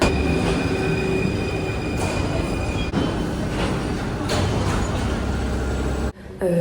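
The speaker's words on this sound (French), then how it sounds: "j'ai pris le métro" Paris metro train running on rails on a Friday evening, loud continuous rumble and clatter with squealing wheels and a brief dip near the end, no voices.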